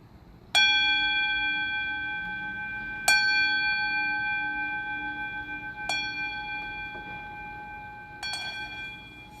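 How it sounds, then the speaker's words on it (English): A bell rung by hand, four clear struck tones spaced a few seconds apart, each ringing out and slowly fading, alone in a quiet room. "And let's ring the bell."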